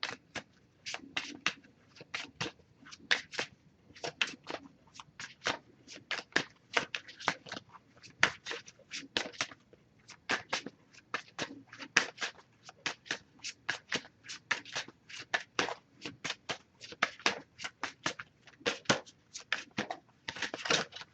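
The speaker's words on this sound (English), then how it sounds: "I'm just going to pull a single card from this deck." An oracle card deck is shuffled by hand, producing a long run of quiet, crisp card riffles and taps in irregular bursts with no talking.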